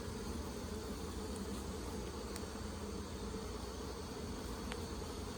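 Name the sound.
honey bees buzzing on hive frames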